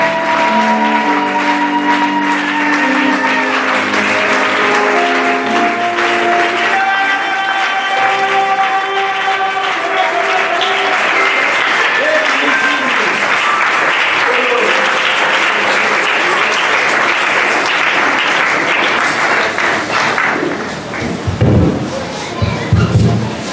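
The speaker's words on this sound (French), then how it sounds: "Nous allons acclamer Dieu par son serviteur qui avance" A church congregation applauding during a worship service, loud sustained clapping and cheering layered with music and voices, ending in a few heavy thumps.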